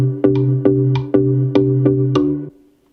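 GarageBand software-instrument melody from a song cover, played with swing quantization: about seven bright, bell-like plucked notes in a lilting, uneven rhythm over a sustained low tone that stops cleanly.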